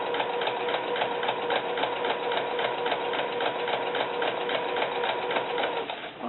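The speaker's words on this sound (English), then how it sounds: "I'm going to try and get my last stitch right up next to the original one that I just put in" A sewing machine runs steadily, stitching curled fishing line onto a t-shirt with a fast, even mechanical chatter that continues without pause, close up and alone.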